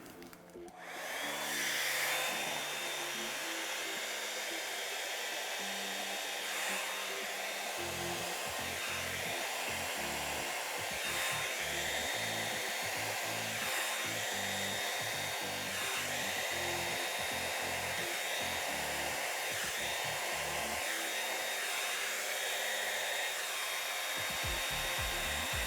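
A handheld hair dryer blows steadily and close for the whole stretch, pushing cell activator through wet paint on an art canvas, with a constant whooshing hum and slight shifts as it moves.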